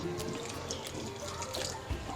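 Water running from a tap into a cup, measured out for gram flour batter in a home kitchen, a steady close splashing flow at moderate volume with no talking.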